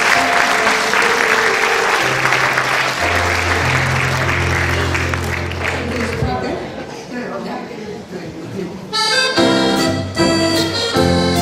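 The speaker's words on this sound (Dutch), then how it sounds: "Geef me een groot applaus." Audience applause in a hall at a Dutch-language song tribute, a steady broadband wash of clapping under sustained music and a voice, before the band and singing take over near the end.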